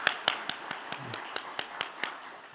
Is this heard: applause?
yes